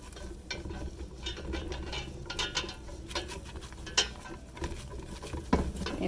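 A spoon stirs flour into melted butter in a pot for a mac and cheese sauce, producing soft repeated scraping and tapping against the pan with occasional sharper clinks.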